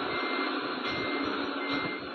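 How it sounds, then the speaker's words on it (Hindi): In Euro Truck Simulator 2, a truck backing up sounds its reversing alarm, a steady run of evenly spaced electronic beeps over a constant engine drone, close and fairly loud, with no talking. "तो स्टार्ट करते और रिवर्स में लेते हैं गाड़ी डायरेक्ट"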